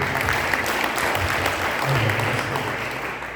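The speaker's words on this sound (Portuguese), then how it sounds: "Aplauda o Senhor, por favor." A church congregation applauding, a dense wash of clapping that holds steady for a few seconds with faint voices mixed in.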